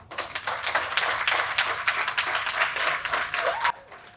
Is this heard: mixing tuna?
no